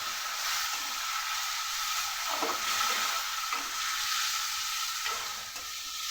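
Ginger garlic paste sautéing in a pan with a loud, steady sizzle and hiss, punctuated by a few soft stirring scrapes, close up with no talking.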